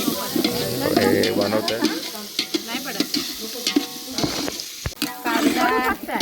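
Mustard seeds and chillies frying in hot oil crackle and sizzle while a spoon scrapes and stirs the pan, with short bursts of popping and a brief spoken phrase.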